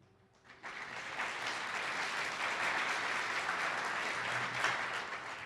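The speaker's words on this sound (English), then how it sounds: "I love that you're applauding" Audience applause at a computing awards ceremony for girls, a dense, steady wash of clapping that swells in after a brief quiet start and holds for several seconds.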